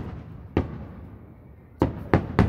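July 4th fireworks burst outdoors in a few separate sharp booms, one early and three in quick succession near the end, over a low background murmur.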